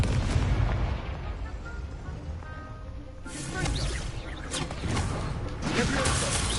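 Incendio fire spell cast in the Hogwarts video game, a loud crackling burst followed by whooshing flames and impact booms in a rushing, layered wash.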